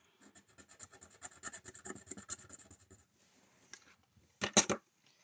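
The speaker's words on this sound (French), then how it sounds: "On va pouvoir gratter une petite pastille." A scratch-card panel is scraped off with a rapid run of quiet, rhythmic rasping strokes, followed after a pause by a louder short scrape.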